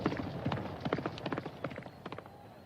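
Galloping horse hooves pound in a fast, uneven clatter during a race in the video game Valkyrie Elysium, a steady run of close, loud hoofbeats without any talk over them.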